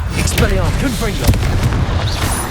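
A Confringo explosion spell in Hogwarts Legacy goes off with a heavy booming blast amid the rumble of combat, while a voice calls out spell names over it.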